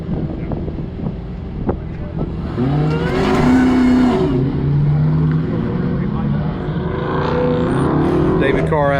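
A Dodge SRT Charger accelerates on a track at Grissom Air Force Base in 2021, with the engine rising and falling in pitch over heavy wind noise, and voices are heard faintly in the background.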